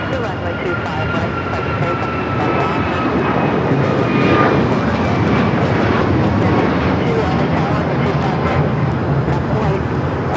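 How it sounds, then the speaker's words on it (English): United Airlines Boeing 737 MAX 9 taking off at LAX, a loud, sustained jet engine roar building steadily and holding strong throughout, with a rising whine above the rumble. "1621 taking off to Orlando on the MAX 9"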